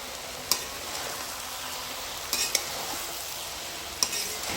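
Potatoes, eggplant and flat beans frying with small puti fish in a covered pan for a spicy village-style curry: a quiet, steady sizzle with a few sharp clinks of a spoon or lid against the pan, no talking.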